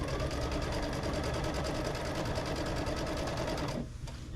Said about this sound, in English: just stitch my 1/4 inch